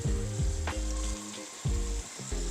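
Beans and peeled, diced tomato stewing in a pan, a steady close sizzle with low bubbling and a few soft knocks of a lid or spoon, no talk.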